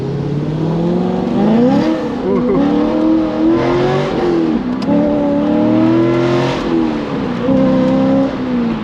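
A 2005 Chevrolet Corvette accelerates hard from a standstill on a demo drive, its V8 loud and close from inside the car, rising through the revs with gear changes as the engine note climbs, dips and climbs again.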